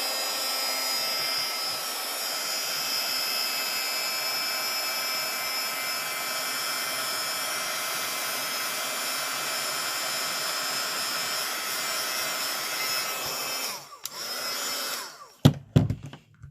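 A hair dryer blows steadily and loudly for about fourteen seconds, drying wet paint on an art piece, then cuts off and is followed by a few clattering knocks near the end.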